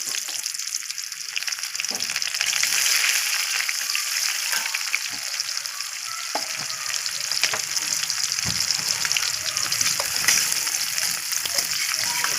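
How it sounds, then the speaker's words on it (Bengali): Onions sizzle steadily in hot oil in a pan with dried chilli and black cumin seeds, a continuous close frying hiss with occasional small pops and stirring scrapes. "একটা শুকনো লঙ্কা, এবারে আমি পেঁয়াজগুলো দিয়ে দেবো।"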